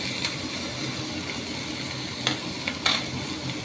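Chicken frying in a little oil on a gas stove, a steady close hissing sizzle with a few brief clinks of a utensil against the pan and no talking.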